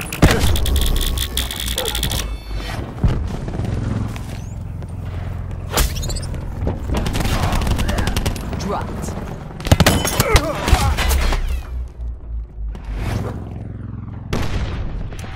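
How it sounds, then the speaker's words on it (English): Cluster grenade blasts in the Call of Duty: Black Ops 4 game, with several loud booms and crackling bursts spread through a dense, busy battle mix, while game voice lines are spoken over it. "Cluster grenade."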